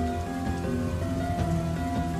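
Steady, dense rainstorm with a continuous hiss of rain pounding a surface, used as a sound effect in an Indonesian audio drama, running evenly throughout with sustained tonal music underneath.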